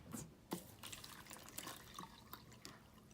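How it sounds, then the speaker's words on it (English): Water poured into a soil mix during a fourth-grade soil lab experiment, heard as soft, irregular drips and trickles, fairly quiet and close, with no talk over it. "Let's add the water now."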